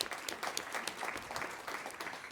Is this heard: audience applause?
yes